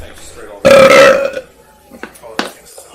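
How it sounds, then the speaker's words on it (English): A single loud, drawn-out burp rings out close up, followed by quieter shuffling and faint voices in an outdoor scene captured on police bodycam. "Burp."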